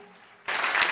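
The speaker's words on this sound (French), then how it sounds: "Je vous demande de vous applaudir, s'il vous plaît." Audience applause breaks out at a graduation ceremony, a sudden dense burst of clapping that begins about halfway through after a quiet stretch and stays loud to the end.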